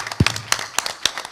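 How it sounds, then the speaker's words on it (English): A handful of sharp, scattered claps from a small audience at a conference panel on pirate radio at the HOPE hacker conference. The claps are sparse and uneven, with brief gaps between them. "I think you all deserve a big round of applause for that"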